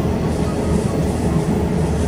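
A train rumbles steadily with a low, continuous rolling drone, as if slowing while pulling in to Kumamoto Station; no voices.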